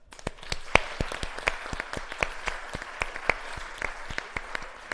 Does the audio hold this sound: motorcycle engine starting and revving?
no